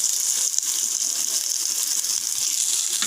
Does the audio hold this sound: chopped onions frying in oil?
yes